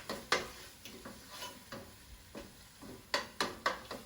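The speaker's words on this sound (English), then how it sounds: "I'm going to stir it." A spoon stirring a Middle Eastern eggplant dish seasoned with black pepper, giving quiet irregular scrapes and taps against the pan, several in a row and clustered near the end, over faint sizzling.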